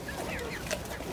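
Chickens cluck softly and briefly nearby on a family property, a faint, quiet burst of low clucking with no one speaking.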